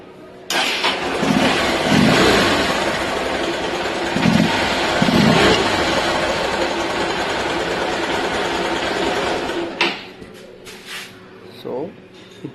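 A Hero Ignitor motorcycle engine starts and runs with a few throttle blips rising over a steady idle, then cuts off and goes quiet near the end; a voice talks over it.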